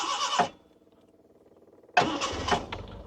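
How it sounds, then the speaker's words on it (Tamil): A Hindustan Motors Contessa is cranked with the starter in two short bursts, a quiet pause between them, the second catching into a rough running engine close by. "சிங்கிள் கிராங்க் தான் இது வந்து 5 to 6 செகண்ட்ஸில் வந்து சிங்கிள் கிராங்க் ஆகிடும்"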